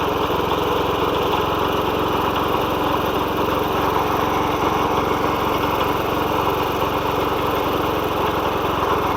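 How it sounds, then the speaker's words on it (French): Rototiller engine running steadily and loudly close by while it churns garden soil to bury manure, a constant buzzing drone with no pauses. "nous allons passer le motoculteur juste pour enfouir le fumier"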